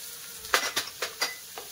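Onion and potato frying in hot oil for Maharashtrian masala rice, a steady sizzle with about five quick stirring scrapes of a spoon against the pan, close and fairly quiet.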